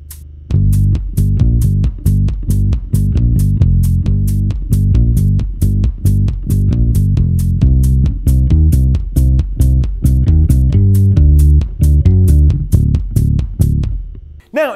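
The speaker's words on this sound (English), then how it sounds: "the third and final way of playing with an octave pedal" A thick, deep bass riff played through an octave pedal, with a doubled low octave, in steady picked notes at a loud, even level, ending abruptly.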